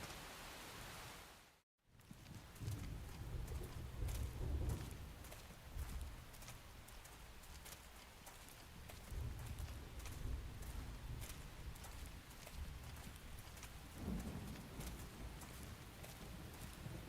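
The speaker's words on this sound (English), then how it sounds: "The rain's starting to let up, just in time for sunrise." Steady rain hiss fills a Xenoblade Chronicles X game scene, an even wash of noise with a brief dropout near the start and a few swells, no thunder claps standing out.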